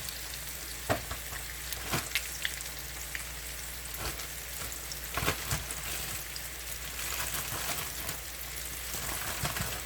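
Oxtails in a pot sizzle and crackle steadily as bone broth goes in, a dense, close frying hiss with scattered pops and occasional stirring knocks.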